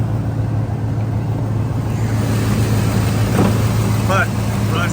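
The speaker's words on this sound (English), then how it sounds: "Got a little bit of an exhaust leak," An old squarebody truck's engine idles with a slight exhaust leak, a steady, close low rumble running throughout while someone talks over it, with a few faint chirps near the end.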